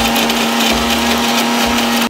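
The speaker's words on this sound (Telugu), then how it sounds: "పాలు వేసుకొని మిక్సీ పెడదాం." A mixer grinder blends ragi and milk for ragi java, a loud, steady whirring drone close by that runs continuously and cuts off abruptly at the end.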